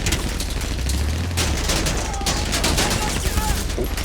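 Dense, continuous bursts of automatic gunfire from a vehicle in GTA 5 Online, a loud rapid fusillade with a deep booming thump partway through, and a voice talking underneath.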